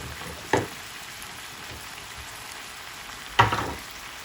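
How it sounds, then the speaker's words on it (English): Onions simmer and fry in a pan as a soft, steady sizzle close by, broken by two sharp utensil knocks, one early and one near the end. "So right now they're just simmering a little bit while that rice and peas cook"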